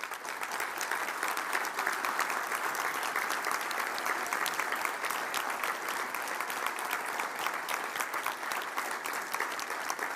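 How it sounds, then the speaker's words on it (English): A room of people gives sustained applause to team captains, an even, dense patter of many hands clapping that stays steady for about ten seconds at moderate distance. "Give these guys some applause."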